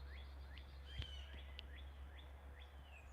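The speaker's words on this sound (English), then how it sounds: "listen to the birds. They're chiming in." Small birds chirp outdoors in the morning with a series of short, faint, repeated calls spaced across a quiet background hum.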